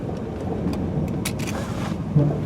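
A 1988 Pontiac Trans Am GTA engine hums steadily nearby on a private road with faint road noise, swelling briefly near the end.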